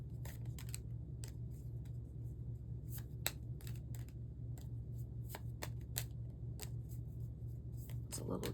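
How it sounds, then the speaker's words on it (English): A small deck of cards being shuffled repeatedly, with crisp riffling bursts and snaps over a steady low hum, close up. "It's a little hard to shuffle"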